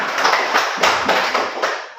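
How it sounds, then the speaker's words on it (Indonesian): A classroom of pupils claps their hands together, a steady burst of close, fairly loud clapping that swells and fades within a couple of seconds. "Ya, tepuk tangan."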